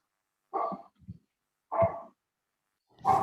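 A dog barks three times with pauses between, plus a small yip, fairly close and alone, during an online synod meeting.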